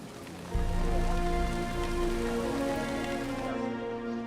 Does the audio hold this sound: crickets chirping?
no